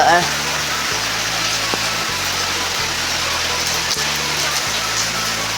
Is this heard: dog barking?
no